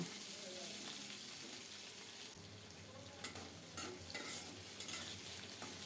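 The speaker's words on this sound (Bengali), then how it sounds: "প্রথমে আলু দিলাম আলুগুলো নেড়ে চেড়ে কিছুক্ষণ ভেজে নেব" Potatoes fry in mustard oil with whole cumin while being stirred, a soft steady sizzle broken in the second half by scraping stirs and a few clacks of a utensil against the pan.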